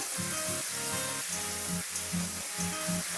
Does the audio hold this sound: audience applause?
no